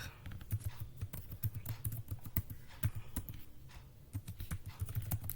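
Rapid typing on a computer keyboard while writing Python code, with quiet, close, irregular key clicks and occasional brief pauses, and no voices.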